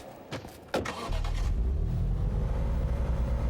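A car in a 2024 horror remake video game: a few sharp clicks and knocks, then an engine rumbles into a steady, loud low drone as the vehicle drives off.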